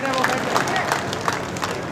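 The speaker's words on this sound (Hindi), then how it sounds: "जोरदार तालियों के साथ।" A seated crowd at a political gathering with a poetry event gives steady, dense applause to welcome leader Rajendra Rathore onto the stage, a continuous wash of clapping with murmured voices mixed in.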